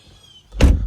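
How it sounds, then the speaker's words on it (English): A BMW M2 (2025) door shuts with one solid, heavy thunk, close and loud after a quiet moment. "Shut the door up. Solid thunk there."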